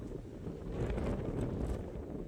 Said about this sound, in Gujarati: પવન બહુ વધારે પવન છે